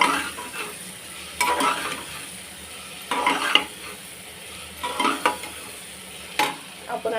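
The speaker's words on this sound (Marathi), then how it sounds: "आता मसाले परतून घ्यायचे कांद्या टोमॅटो मध्ये" Spices stirred and fried in an onion-tomato masala in a pan, with steady sizzling broken by several bursts of spoon scraping and stirring, close and moderately loud.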